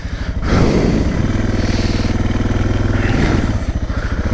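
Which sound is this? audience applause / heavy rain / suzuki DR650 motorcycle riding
suzuki DR650 motorcycle riding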